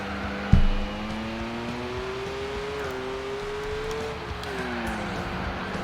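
Turbocharged race car engine at high RPM in Gran Turismo 4, a steady sustained drone with slowly shifting pitch and one brief sharp knock near the start, moderately loud throughout.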